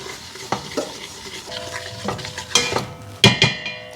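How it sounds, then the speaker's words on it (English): Flour and butter stirred in a pan for a mac and cheese roux, a utensil scraping and clinking against the metal over a faint sizzle, with irregular close strokes and no voices. "Now make sure you're constantly stirring because you don't want it to burn."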